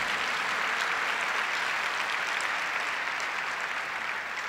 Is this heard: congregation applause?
yes